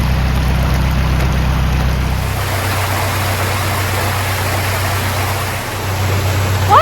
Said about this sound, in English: All this water coming down and heading straight for the canal.